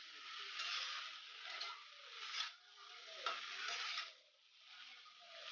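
Vegetables fry under a lid in a pan with no added water, giving a continuous soft sizzle that swells and fades, with occasional light stirring scrapes and clinks.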